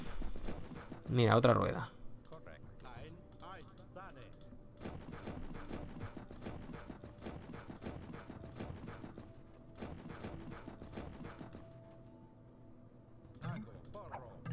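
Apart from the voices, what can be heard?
horse hooves clip-clopping in video game Age of Empires 2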